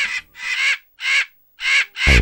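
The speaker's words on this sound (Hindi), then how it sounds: "ओह वाकई ये तो कौवे हैं।" Loud, close crow caws from a Hindi children's cartoon come in a run of five harsh calls with brief gaps between them.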